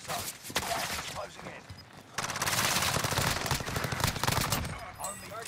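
Loud, sustained machine gun fire rips through a Warzone Rebirth match in long rattling bursts. A short pause comes partway through before the firing resumes.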